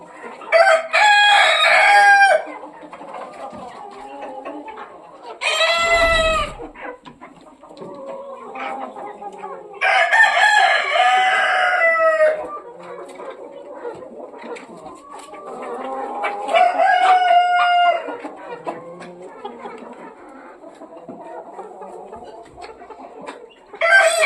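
Roosters crow repeatedly, several loud drawn-out calls spaced a few seconds apart, with softer hen clucking and farmyard chatter between them, as the chickens drink whey.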